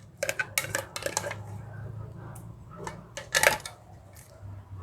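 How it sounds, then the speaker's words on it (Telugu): Tomato pickle ingredients being mixed in a bowl with a large spoon: scattered clinks and scrapes of metal against the dish, coming in short bursts with quiet gaps between them. "ఇప్పుడు దీన్ని అన్నీ కలిపేద్దాం."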